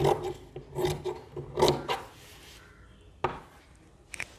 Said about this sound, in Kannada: ನಾನು ಯೋಗ ಪಟ್ಟಿನ ಇಟ್ಟುಬಿಟ್ಟು ಕಟ್ ಮಾಡ್ತೀನಿ.